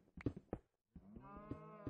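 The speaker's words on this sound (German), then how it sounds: "Ich hab ne Kuh gehört." A cow moos in a Minecraft game, a short low call followed by a longer drawn-out moo with clear harmonic tone, heard alone at moderate loudness.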